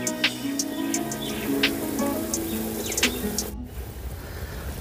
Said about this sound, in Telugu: ఇప్పుడు రైస్ వేసుకుందాం.